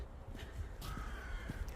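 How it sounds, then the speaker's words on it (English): Crows caw outdoors on an autumn walk, a few harsh calls at a moderate distance over low background rumble. "Spooky crows."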